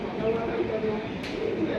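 A pigeon coos softly in a low, rounded murmur amid a busy pigeon market, partly masked by someone talking nearby and general crowd noise.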